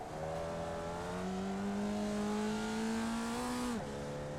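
Formula Vee race car in a racing video game, its engine droning steadily and rising slowly in pitch before dropping sharply under braking, loud and continuous.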